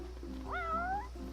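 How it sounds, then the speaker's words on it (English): A cat in Final Fantasy XV gives one short, clear meow with a rising then gliding pitch, heard alone over a steady low background hum. "Oh, that's the cat."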